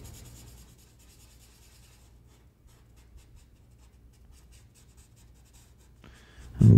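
Soft, steady scratching of a dark gray colored pencil on paper while drawing Kylo Ren, close and quiet, with strokes continuing over several seconds before a louder bump at the end.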